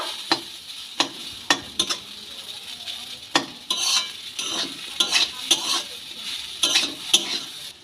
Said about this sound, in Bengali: এবার দিয়ে খুব ভালো করে নেড়ে চেড়ে নেব